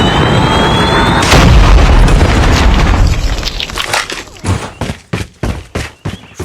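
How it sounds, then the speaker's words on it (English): Predator missile strike in Call of Duty Mobile's Hardpoint mode: a loud sustained roar of blasts builds up, then breaks into a run of sharp separate booms that fade toward the end, with no voices. "Predator missile inbound."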